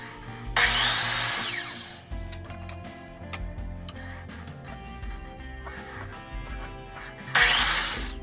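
A power saw cuts two wooden pieces, each 18¼ inches long. Two loud, close bursts of whining saw noise are heard, one near the start and one near the end, separated by quieter clattering and handling of wood, with no talk.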